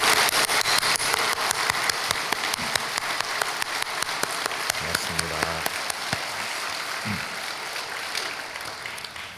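A church congregation applauding, sustained dense clapping from a large crowd filling the hall, with brief voices and organ-like tones rising partway through before the applause tapers slightly.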